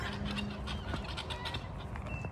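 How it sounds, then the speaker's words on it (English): Farmyard chickens cluck continuously and close by, a busy overlapping chatter of soft calls with a few sharper squawks and no speech. "tell your birds to move on"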